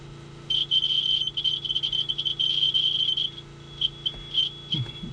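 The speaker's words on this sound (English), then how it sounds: "their little beeper they put here in the monitor" The warning beeper in a White 8700's monitor sounds a loud, steady, high-pitched electronic tone that holds for a few seconds, then breaks into shorter beeps over a low background hum.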